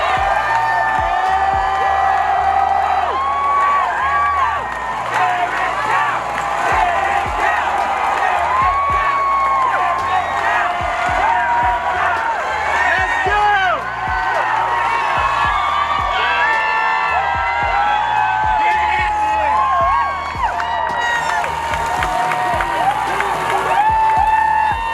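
An outdoor crowd on Monument Avenue in Richmond, Virginia, cheers, whoops and claps loudly as a bronze statue is lowered to the ground during a storm, a continuous swell of shouting voices and applause lasting the whole stretch.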